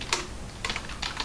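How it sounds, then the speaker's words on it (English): Quick keystrokes on a computer keyboard as a command is entered in a terminal, three short bursts of clicky typing close up with brief pauses between them. "So to activate it, you type source venv bin"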